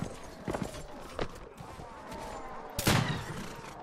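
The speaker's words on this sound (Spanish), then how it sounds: "¿En serio me vas a esquivar los disparos de pistola, amigo?" Pistol shots in the video game Mount and Blade amid a cavalry battle: a few sharp cracks scattered over clattering hooves and battle noise, the loudest burst near the end.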